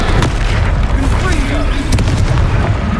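A Confringo explosive spell in Hogwarts Legacy, a loud close boom with rumbling crackle, layered with other combat noise and a voice speaking.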